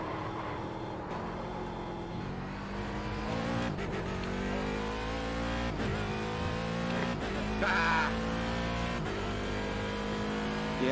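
A race car engine in the iRacing sim at Daytona drones loud and close, its pitch sweeping up and down as it revs and shifts through gears, with a brief tire squeal partway through.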